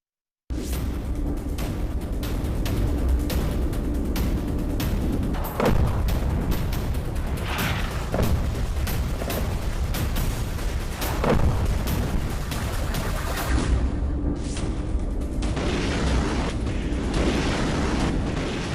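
A news report on a missile test fired from a bullet train uses an explosion sound effect: a loud, continuous rumbling roar with several sharper booming bursts, running alone for most of its length before it thins out near the end.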